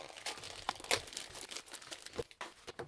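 A Klein Tools 5139 canvas zipper bag is handled and opened up close, giving a dense run of rustling, crinkling and scraping with a few sharper bursts and no speech.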